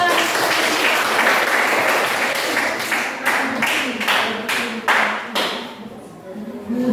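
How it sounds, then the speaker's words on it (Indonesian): Classmates applaud in a classroom after a group presentation, a burst of dense clapping that thins into separate, distinct claps toward the end, fairly close and lively. "Sekian dan terima kasih. Tepuk tangan."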